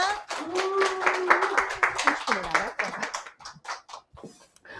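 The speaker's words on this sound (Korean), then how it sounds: "박수로 맞이하겠습니다." An audience claps to welcome a lecturer at a parenting talk on preparing children for middle school. The applause comes in quick bursts and stays under steady talking from the room.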